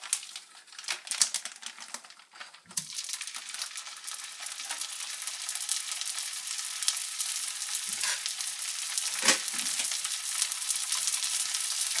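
Kipper fish frying in melted butter in a pan, a close, crackling sizzle that flares up as the fish goes in and then settles into a steady hiss with occasional sharp pops.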